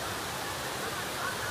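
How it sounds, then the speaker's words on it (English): A newly discovered waterfall in Sierra Leone makes a steady, full rushing roar of falling water, continuous and close, with no break in the noise. "a new discovery waterfall"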